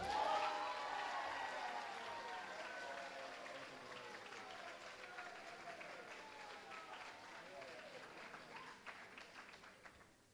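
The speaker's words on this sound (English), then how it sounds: "please hold your applause till the end" Applause at a school band banquet, a fairly faint, steady patter of clapping from the audience that slowly fades, with some talk and crowd murmur underneath.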